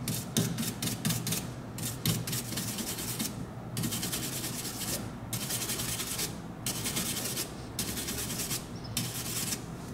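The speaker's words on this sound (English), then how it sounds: "Now I can just brush off the little stains from the welding." Steady scrubbing with brief pauses as a brush works welding stains off a Nissan 240SX wheel hub, the close, loud rasping strokes repeating in quick bursts over ten seconds.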